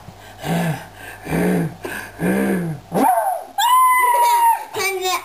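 A dog gives three evenly spaced barks close by, followed by voices talking.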